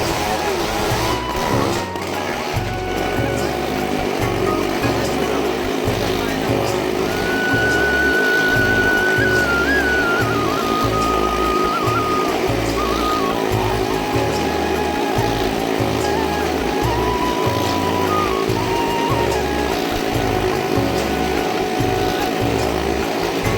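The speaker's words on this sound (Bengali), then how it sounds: "আর বন্ধুরা দেখুন কেমন ভাবে ওরা বাইক চালাচ্ছে" Motorcycles ridden in a fairground stunt show, their engines droning loudly and steadily throughout with revving surges, amid a noisy crowd and fairground din.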